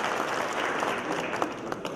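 Audience applause at a ceremony of the 27th Congress of African Notaries in Oran, Algeria: dense, steady clapping from a large hall crowd, sustained at a strong even level for the whole stretch.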